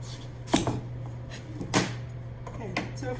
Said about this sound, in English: The next thing I want to cut off is the stem.